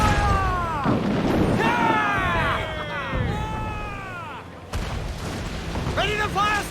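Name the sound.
ship firing broadside in video game Assassin's Creed IV: Black Flag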